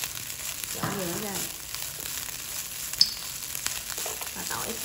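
Cooked rice frying in a pan as minced garlic is added for garlic egg fried rice, giving a steady close sizzle with a brief stirring scrape and a faint voice midway.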